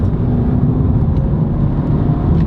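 A 2018 Suzuki Swift Sport's small engine hums and accelerates steadily from inside the cabin, a continuous low whir and rumble without talk.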